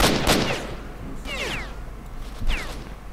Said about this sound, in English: Are you shooting down, or where are these bullets coming from?